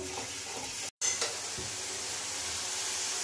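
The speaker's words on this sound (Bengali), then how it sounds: "তো কষতে হবে ভালো করে মশলা।" Spices for a pomfret kalia sizzle in oil while being stirred in a pan, a steady close frying hiss with soft scraping and a brief gap near the start.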